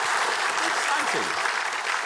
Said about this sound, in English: Applause on your dad's behalf.